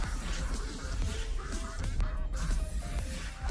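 Ducks quack in the Duck Season video game, several short calls over a steady wash of game noise and rumble, no voices on top.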